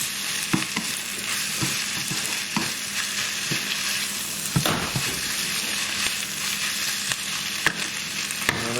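Spring onion being stirred through hot oil in a frying pan for salt and pepper chicken wings, a steady sizzle broken by repeated scraping stir strokes, close and continuous with no talk.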